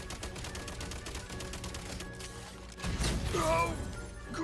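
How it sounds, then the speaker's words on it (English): Rapid gunfire rattles in Genshin Impact gameplay, a dense run of quick repeated shots that swells into a louder, crashing burst near the end, with no talk. "Look at this intense gun gameplay, ladies and gentlemen"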